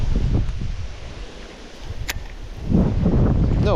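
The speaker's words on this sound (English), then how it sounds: "Windy and gusty." Gusty wind buffets the microphone on a fishing outing, rumbling in uneven waves that ease off midway and then surge back louder, with a brief faint tone and rustle near the end.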